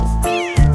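A single clear, close cat meow, loud and rising then falling, heard alone without any speech.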